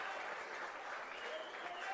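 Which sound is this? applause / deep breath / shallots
applause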